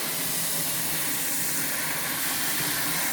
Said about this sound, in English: So you just rinse it until it doesn't foam anymore